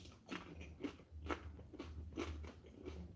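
Bites into a crunchy homemade tortilla chip give a handful of sharp, close crunches at a steady pace, quiet apart from each brittle crack.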